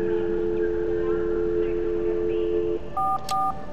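Pay phone in the video game The Darkness gives a long steady dial tone, then a few short beeping keypad tones in quick succession over a low background hum.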